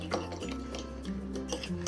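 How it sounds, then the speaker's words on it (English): Eggs beaten with cornstarch and seasoning salt in a bowl for a Sichuan-style omelet, a rapid, steady whisk scraping and ticking against the bowl for about two seconds, close and fairly quiet, with no talking. "So give this a good whisk."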